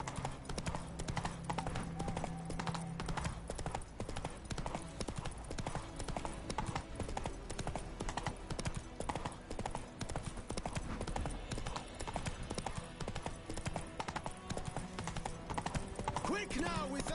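Horse hooves galloping in The Witcher 3, a rapid, continuous clip-clop rhythm close up, running steadily beneath game music for the whole stretch.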